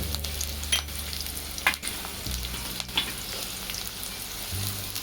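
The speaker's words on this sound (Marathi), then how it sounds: "आपण कांदा टाकून घेणार आहोत, कांदा आणि मिरची," Onion, chili and curry leaves sizzle steadily in a hot pan, close and fairly loud, with a few scrapes and stirring knocks breaking through the frying hiss.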